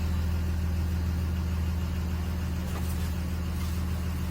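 A 2009 Dodge Ram 2500 pickup runs on a test drive after a sway bar end link replacement, its engine giving a steady, low droning hum with road rumble, constant and fairly close throughout.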